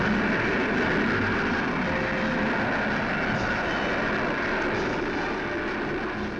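A rocket sled streaks down a 2.5-mile test track, producing a steady, loud broadband roar that holds throughout without breaks.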